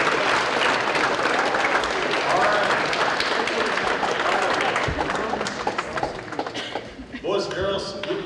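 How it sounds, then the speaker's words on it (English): A school audience of children gives a round of applause, dense clapping filling the room before thinning into scattered claps, shuffling and chatter near the end. "give the person next to you a round of applause"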